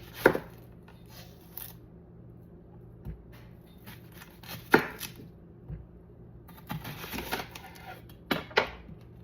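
An onion being chopped on a cutting board in a home kitchen, heard as scattered knife taps in short bursts of a few strikes, close and moderately loud, with long gaps and faint background hum.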